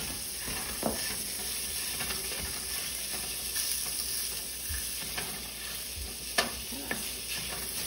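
Crumbled sausage frying in a pan for a tomato pasta sauce, a steady soft sizzle with occasional light scrapes and taps as a utensil breaks the meat apart, close and fairly quiet with no talking.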